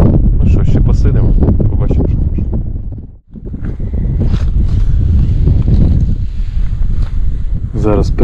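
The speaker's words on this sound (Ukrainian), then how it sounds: "Вітер розпочався дуже сильний." Strong wind blows across a frozen lake during ice fishing for crucian carp, a loud, gusting, rumbling roar buffeting the microphone almost throughout, with a voice heard at times.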